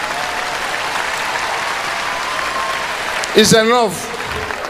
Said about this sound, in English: Everybody here, clap the way you feel about yourself.